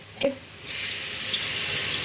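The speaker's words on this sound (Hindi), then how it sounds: "तो ये मैं बड़ी ग्लास से 2 ग्लास जितना पानी डाल रही हूँ।" Water poured from a large glass into a soy and potato masala gravy, a short splash then a steady, continuous pouring rush that fills the rest of the moment, fairly close and without talk.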